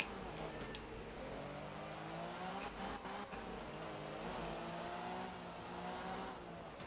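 An old Mini rally car in Art of Rally, racing a Finnish stage: a buzzing, revving small engine that rises and falls with gear changes, heard close and continuous with faint tyre noise.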